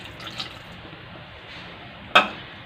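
A small splash of water poured into a cooking pot of ginataang salmon or pork with squash, a single brief burst near the end after a quiet, steady kitchen background.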